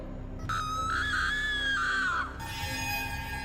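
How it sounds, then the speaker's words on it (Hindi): A single voice screams loudly in a Hindi drama, one long rising and falling shriek over about two seconds, followed by a lower sustained cry, with faint background ambience and no other talk. "चीखने चिल्लाने का कोई फायदा नहीं है।"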